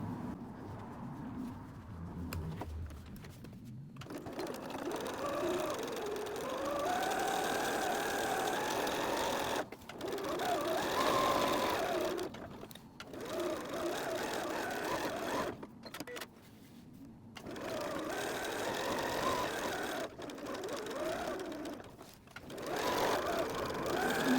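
A sewing machine runs a seam across the bottom of a beach bag in long, steady, whirring stitching runs, stopping briefly between passes and close by.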